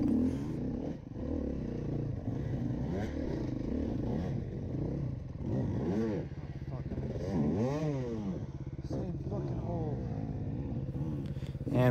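A dirt bike stuck in a muddy rut during a hare scramble revs in repeated rising and falling bursts, up close and loud, with a rider talking over the engine.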